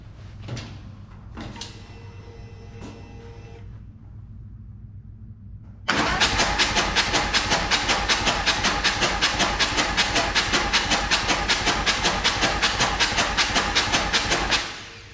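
A Harley-Davidson Lowrider S with a 131ci Stage IV engine cranks over on the starter with plugs out, building oil pressure: a steady, loud, rapid mechanical churning that runs unbroken for about nine seconds after a few quieter clicks and clunks, then stops.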